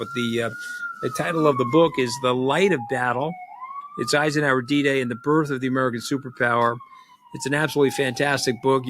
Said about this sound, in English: apologize for the sirens in the back